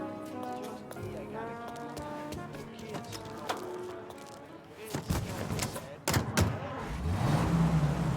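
In Mafia Definitive Edition, a car engine hums while driving, with voices talking over it early on before the motor rises and revs louder near the end.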